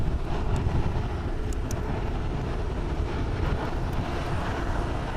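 An ITA Airways airliner at Tokyo's Haneda Airport produces a faint, distant, even engine rumble that holds steady throughout.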